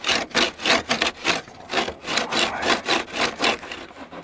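A saw cuts through a piece for the steps of a Freightliner FLD truck, with about a dozen steady back-and-forth rasping strokes, close and loud, and no talking.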